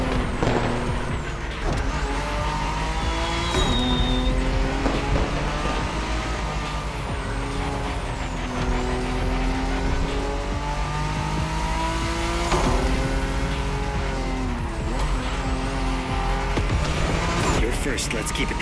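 A Nissan GTR race car in the racing video game The Crew Motorfest, engine droning loud and continuous with rising and falling revs through gear changes, with game sounds layered throughout.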